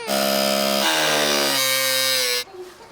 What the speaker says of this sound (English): we've got to cut out a section in the back for our engine to go